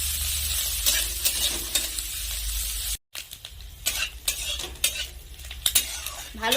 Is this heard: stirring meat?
yes